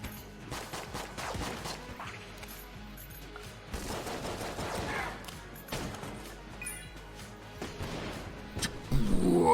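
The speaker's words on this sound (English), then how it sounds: "Whoa, slow motion explosion." Chaotic bursts of gunfire and a slowed-down explosion from the game Enter the Gungeon, rapid shots and crashes piling up at a moderate level, with no talk over them.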